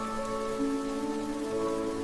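Steady rain falls on scrap heaps in a junkyard, a constant close hiss of drops on metal and debris with a faint tonal hum underneath, and no voices.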